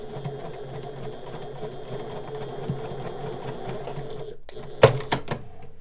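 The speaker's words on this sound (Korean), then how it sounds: "여기는 이 상태로 그대로 박음질 해주시면 돼요" Sewing machine stitching a corduroy banded long dress, a close, rapid steady whir-clatter for about four seconds, then a pause and a few sharp clicks and knocks.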